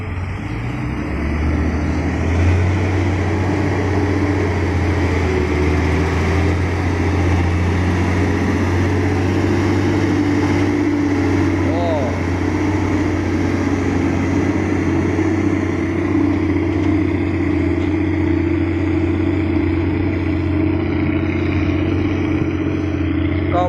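Ten-wheel dump truck engine at an earthworks site where an excavator loads soil, a steady low diesel rumble and drone running continuously at moderate distance without break.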